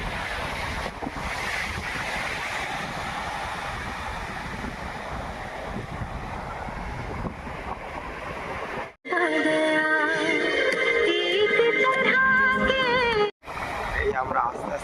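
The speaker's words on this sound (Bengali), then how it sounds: "চারিধারে নিস্তব্ধ আর সমুদ্রের গর্জন" Ocean waves roar steadily along the Odisha coast between Paradip and Konark, with wind buffeting the microphone and a continuous broadband wash. Faint voices may sit under it, and the sound changes partway through.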